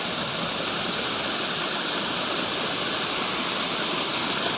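Clear snowmelt creek flowing over rocks, a steady close rushing and burbling that fills the whole stretch with no voices.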